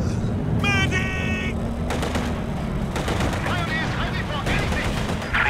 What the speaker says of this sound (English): Our machine gun turret has been installed.